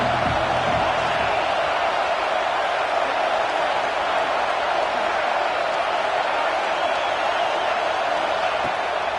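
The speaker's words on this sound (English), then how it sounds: "this crowd is at fever pitch" Stadium crowd roaring steadily at a Notre Dame versus USC college football game during a third-down red-zone play, a dense, continuous, loud wash of cheering with a commentator's voice faintly mixed in.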